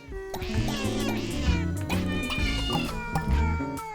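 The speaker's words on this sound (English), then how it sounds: "The cat noises." Cartoonish cat meows from the Replicat mod for the video game Balatro, a rapid run of loud, close mews and yowls over light game music.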